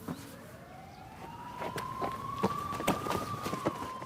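A police siren wails in a long rising-and-falling sweep, moderately distant, with faint footsteps or thuds of someone running and light street background beneath it.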